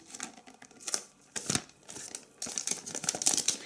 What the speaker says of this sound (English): let's try to pull the plastic off